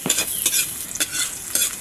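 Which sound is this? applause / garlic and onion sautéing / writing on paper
garlic and onion sautéing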